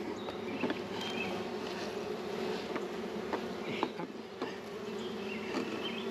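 Honey bees buzzing steadily around a hive entrance, a dense continuous insect drone with individual bees zipping close past now and then.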